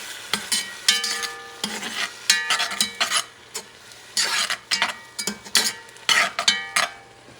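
Grated tomatoes are stirred in a hot pan, making repeated loud scraping strokes of a utensil against the pan over a soft sizzle, in an uneven rhythm, close up with no talk.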